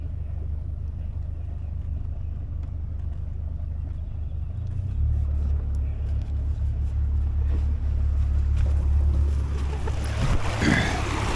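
A big boat's engine rumbles low and steady as it limps toward the ramp for repairs, and the throttle is eased up slightly partway through so the drone grows a little louder and fuller.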